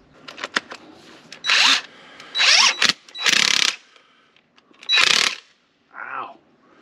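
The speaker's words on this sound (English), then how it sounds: "Using the Ryobi half inch impact driver." A Ryobi half-inch impact driver fires in four loud, close bursts of rapid hammering, each lasting about half a second. Softer clicks come between the bursts, and a shorter, duller burst ends the sequence.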